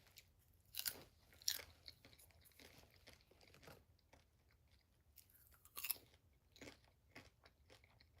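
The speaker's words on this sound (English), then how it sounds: "Am I crunching too hard?" Crunchy food chewed close to the microphone makes quiet, irregular crisp crunches and bites scattered across several seconds, with no talking.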